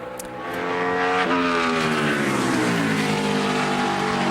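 A NASCAR Sprint Cup stock car at Richmond on a solo qualifying lap, its engine a loud, steady roar with a rising then sweeping pitch as it passes, sustained without pause.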